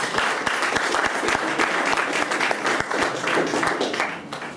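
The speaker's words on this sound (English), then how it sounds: "Another round of applause for them." An audience applauds at a youth convention talk, a dense sustained wave of clapping that stays loud and slowly thins toward the end.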